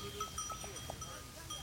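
Goats bleat faintly on a cheese farm, giving a few short calls over a hazy, steady outdoor background, while thin high bell-like tones ring intermittently.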